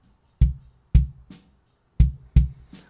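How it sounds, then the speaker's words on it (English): Four solo kick drum hits, deep and punchy, spaced unevenly with short decays and silence between them. "So let's listen to the kick drum."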